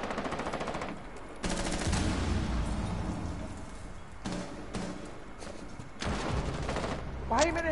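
Rapid automatic gunfire from the game Rainbow Six Siege on PS4 in ranked play: dense, loud bursts of shots with brief pauses between them, and a short voice near the end.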